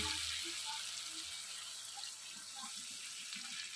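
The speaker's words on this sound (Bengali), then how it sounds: "তো এখন আমি এতে জল দিয়ে দেবো।" Water poured into a pan of tilapia curry being cooked Bengali style, a steady hissing splash of liquid, fairly quiet and continuous.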